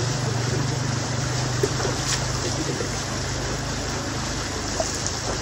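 Water sloshing and trickling steadily from a basin or bucket during an afro hair wash, a broad continuous wash of splashing with a low hum underneath and a couple of faint clinks.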